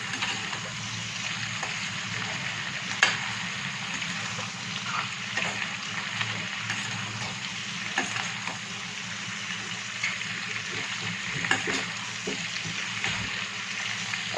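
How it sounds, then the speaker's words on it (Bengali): Chilli chicken cooking: pre-fried chicken pieces and chopped green chillies are stirred together in a hot pan, giving a steady, close sizzle with a few sharp clinks from the utensil. "আর চিকেনগুলো অ্যাড করে দেব, ভেজে রাখা চিকেনগুলো। সব কিছু একসঙ্গে মিশিয়ে নেব।"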